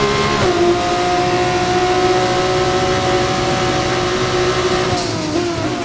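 A race car engine in a racing video game drones loudly and steadily at high revs through the whole stretch, with a slight pitch shift near the end as it keeps accelerating.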